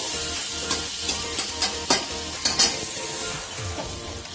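Spices being stirred and fried in a pan over low flame, a steady sizzle punctuated by several scraping stirs of a spoon, close and clear with no voices.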